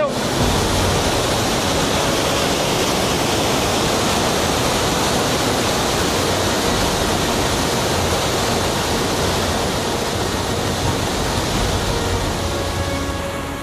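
Steady, dense roar of Hukou Waterfall, where the muddy Yellow River plunges into a narrow gorge in China, loud and unbroken for the full stretch with no voices on top.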